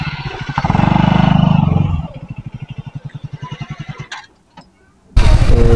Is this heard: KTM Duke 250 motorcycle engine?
yes